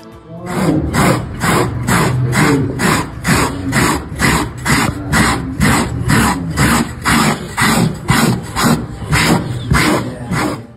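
Carpet fibers being trimmed and scraped away in steady repeated strokes, a rhythmic rasping pulse about once per second, close and loud, with no talking.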